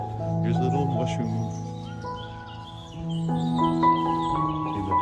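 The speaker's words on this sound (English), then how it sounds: "the birds are all singing as we visit the fairy tree" Birds singing around a fairy tree in a British garden, chirps and calls scattered under a sustained tonal hum, with faint activity throughout and no clear speech.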